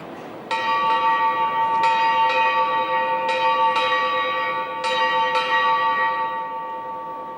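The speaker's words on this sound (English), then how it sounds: "8 bells were sounded" Ship's bells sound eight times at a Royal Navy parade held at the Queen's request, struck in spaced pairs with bright ringing tones that hang and overlap between strikes, loud and clear with no talk.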